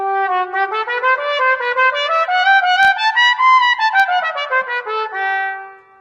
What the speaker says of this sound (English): we buzz our lips, and that creates the sound that travels through the trumpet